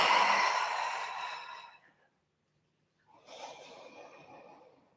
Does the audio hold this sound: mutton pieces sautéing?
no